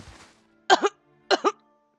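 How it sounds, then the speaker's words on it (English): In a video game, two sharp, close coughs separated by a short pause, each a harsh burst with a rough, breathy edge, following a brief faint rustle. "I crumpled to the ground, coughing and gasping for air."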